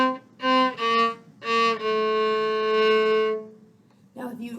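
Solo violin playing a slow harmony line, a handful of sustained bowed notes with one long held tone, close and clear with no talking.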